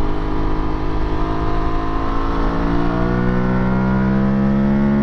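An Aprilia Tuareg 660 motorcycle engine droning loud and close while the rider downshifts with a quickshifter, the tone rising and falling smoothly with no gaps, no voices.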